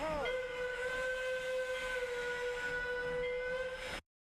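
A steam locomotive's whistle blows one long, steady, multi-toned blast over hissing steam and train rumble, loud and close, then cuts off abruptly.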